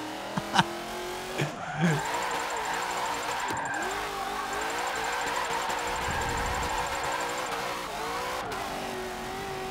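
Ford NASCAR race car drifting in Forza 7, a steady loud engine drone with revving swells and tire squeal running throughout, close and continuous.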